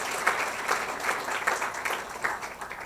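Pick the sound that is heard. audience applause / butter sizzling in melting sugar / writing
audience applause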